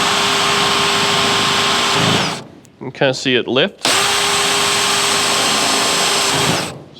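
A power drill bores through layered metal body panels on a Camaro, running with a loud steady whine, pausing briefly while a person speaks, then whining again at full speed.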